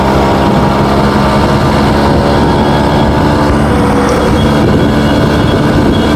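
A 2-stroke Suzuki Samurai motorcycle on off-road tyres is ridden over rough ground, its engine a loud, constant, buzzing drone heard close with heavy rumble and no voices.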